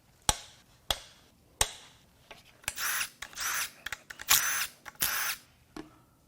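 Power tool loosening connecting rod bolts on a failed Kia Sorento Lambda II V6 engine: three sharp impact bursts first, then several longer whirring runs of the tool, close and loud with brief pauses between, no talking.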